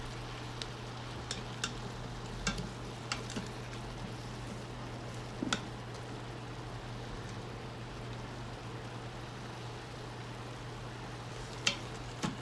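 Ground meat browning for chilli in an Instant Pot, stirred and scraped along the pot bottom, with a steady sizzle and a low hum underneath and occasional sharp scrapes and clinks of the spoon, continuous with no talking.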